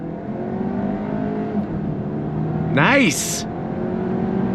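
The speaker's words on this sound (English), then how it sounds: "we're gonna go on throttle" A 2023 VW Arteon sedan accelerates hard on throttle from inside the cabin, its engine note climbing steadily with a quick rising shift sweep midway, while a voice speaks briefly.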